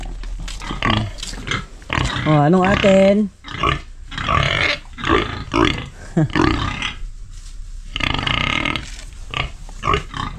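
Pigs in a pen grunt and squeal in repeated harsh, close bursts, one drawn-out wavering squeal standing out, while someone speaks briefly amid the noise.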